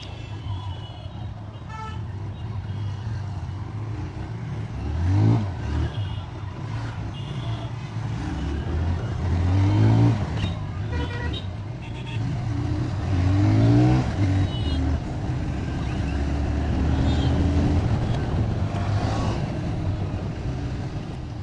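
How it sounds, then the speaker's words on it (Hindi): TVS Raider 125 ABS motorcycle pulling away from a showroom in first gear, engine hum steady with a few rising rev swells under traffic noise and a nearby voice. "स्टार्ट हो गई है फर्स्ट गियर और शोरूम से ही लेकर चल रहा हूँ भाई"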